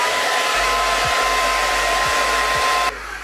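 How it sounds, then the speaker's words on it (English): A handheld blow dryer runs continuously at close range while drying hair, a loud steady whooshing roar with faint ticking shifts, its pitch and level dropping slightly near the end. "all you have to do is use your blow dryer"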